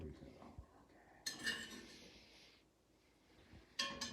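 A spoon scrapes and clinks against a pan while scooping a garlic and white wine sauce, in a few quiet metallic bursts separated by near silence.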